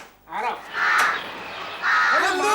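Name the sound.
crow cawing loudly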